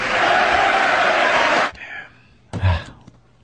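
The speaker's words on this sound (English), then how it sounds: "They sure stopped clapping abruptly." Loud, dense crowd applause from an audience at a recorded political speech about Iraq and al-Qaeda, which cuts off abruptly, followed by a brief quiet stretch and a short murmur of sound.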